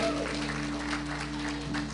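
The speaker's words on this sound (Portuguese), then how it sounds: "Vamos dar uma salva de palmas, Senhor, pela vida desse homem de Deus" Church congregation applause for Pastor Chris, a soft, steady patter of many hands heard at a distance over a low electrical hum.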